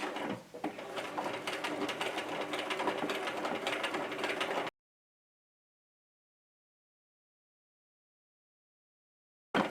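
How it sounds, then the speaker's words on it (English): A sewing machine stitches red thread onto a dark denim tote, running in a steady, close mechanical whir for about four and a half seconds before stopping. After a long silence, a short burst of sound returns at the very end. "I want that red thread on the front, so I'm going to see if I can get my sewing machine to do that."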